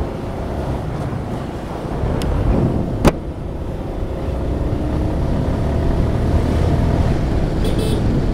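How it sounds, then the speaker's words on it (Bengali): Strong wind roars across the microphone during a motorbike ride, a loud, steady broadband rumble with one sharp click partway through and no voices. "প্রচুর বাতাস"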